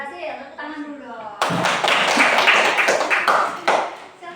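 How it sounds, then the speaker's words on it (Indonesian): A class of pupils in a coding lesson breaks into dense, sustained hand clapping for about three seconds, loud and close, right after a brief spoken voice. "Tepuk tangan dulu dong"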